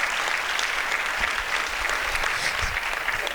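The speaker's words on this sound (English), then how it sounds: "we can clap for that, please." A school-district audience at a State of the District address applauds its teachers, thick continuous clapping from many hands at a steady, fairly loud level throughout.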